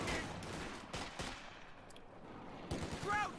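Heavy machine gun fire in a World War II style strategy game match, a .50 caliber weapon firing in dense bursts amid other battlefield gunfire and explosions, fairly loud and continuous.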